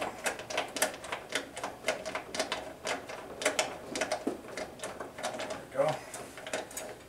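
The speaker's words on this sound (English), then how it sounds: "Then I'll use the ratchet." A ratchet clicks in short, repeated bursts while backing out the gas tank screws on a small engine during a pull cord replacement, with someone talking over much of the work.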